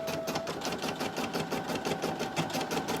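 A sewing machine stitches out embroidery on underwear, running steadily up close with a fast, even mechanical pulse and a faint whine.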